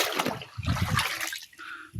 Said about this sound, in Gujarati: હવે આમાં પાણી રેડી દઈશું આપણે.